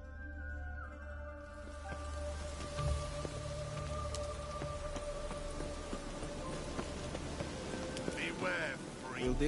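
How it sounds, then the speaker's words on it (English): Steady rain falls across an open-world fantasy landscape in The Witcher 3, a continuous soft patter that lasts throughout, with occasional hoofbeats and a voice speaking over it. "I like rain."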